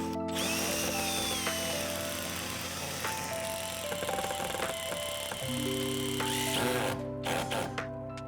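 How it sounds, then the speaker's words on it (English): Bolt being driven in on the driver's side of a car while fitting a Vicrez front splitter, side splitters and rear diffuser on a Mustang: a close, steady power-tool whir with ratcheting clicks, shifting pitch midway and ending in short bursts. "we're gonna go ahead onto the driver's side and screw in the one bolt"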